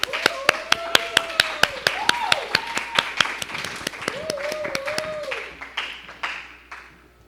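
Audience at a Christian talk show welcomes a guest named Dinda with sharp, distinct, rhythmic claps, near and prominent, tapering off toward the end while voices speak and exclaim over them.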